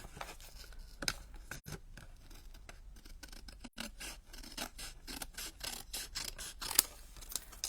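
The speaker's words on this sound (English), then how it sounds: "I'll just use the scissors." Scissors snipping card stock on a stamping and card-making table, a run of short crisp cuts in an uneven rhythm, close and fairly quiet with no talking.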